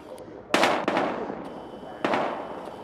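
Two sharp gunshot blasts in Battlefield Hardline, about a second and a half apart, each trailing into a short echoing decay, loud and close.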